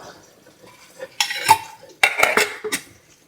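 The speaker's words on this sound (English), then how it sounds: "So you just keep stirring and keep stirring." A spoon scraping and clattering against a metal pan while a butter and flour roux for dark brown gravy is stirred, with short bursts of loud scraping between quiet pauses.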